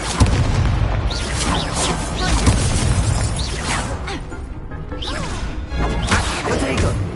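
Confringo explosive spell cast in Hogwarts Legacy, with loud booming blasts and crashes layered over dense combat noise and music, continuous and heavy throughout.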